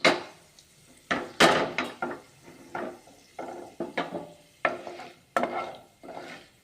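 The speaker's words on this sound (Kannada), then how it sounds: "ಗೋಲ್ಡನ್ ಕಲರ್ ಬರೋವರೆಗೂ ಸ್ವಲ್ಪ ಫ್ರೈ ಆಗಲಿ ಉದ್ದಿನ ಬೇಳೆ" Urad dal and chana dal fry in a pan for upma, heard as a series of sharp scraping stirs and clatters against the pan over a faint sizzle, with short pauses between strokes.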